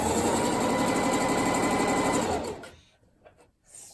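A sewing machine runs a steady, fast straight stitch along a folded Dollar Tree scarf, its close mechanical whir holding constant before stopping abruptly, followed by a few faint handling sounds.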